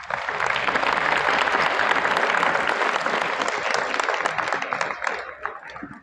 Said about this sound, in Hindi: शास्त्री जी बीच में ताली बजाओ